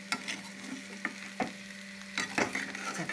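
A fry is stirred slowly in a pan, with gentle sizzling underneath and a few distinct scrapes and knocks of the spoon spaced across the stretch, with no talking.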